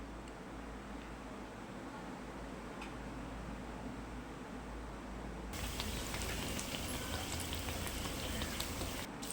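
Urad dal vada batter frying in hot oil, a steady fizzing crackle that grows louder and denser as more batter drops in, close and continuous.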